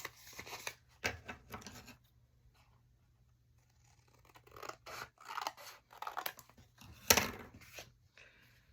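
Scissors cut patterned craft paper to make pockets for a mini folio, giving crisp snipping and scraping strokes in two bursts separated by a quiet pause, close and clear.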